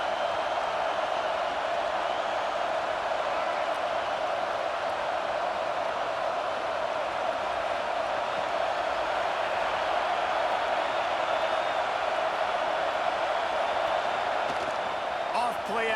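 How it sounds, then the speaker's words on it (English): A stadium crowd at a Clemson versus Michigan college football game roars as the defense takes the field, producing a constant, loud, unbroken wall of noise that holds at the same level throughout. "Listen to this crowd just shaking the girders of this place"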